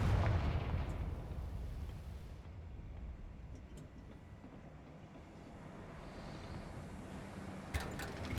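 A Confringo blasting curse goes off in a video game, a loud rumbling blast that starts heavy and then settles into a long, fading roar with a few sharp crackles near the end.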